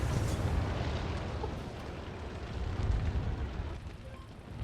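Sheridan light tank cannon firing in the video game Armored Warfare: a heavy, rumbling boom with a long, dense roaring tail that fills the whole stretch, loud and close.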